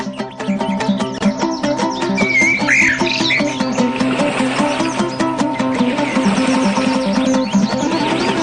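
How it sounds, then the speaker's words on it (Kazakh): Swallows in a Kazakh animated cartoon chirp and squawk loudly and continuously over a steady musical backing. "Қарлығаштар."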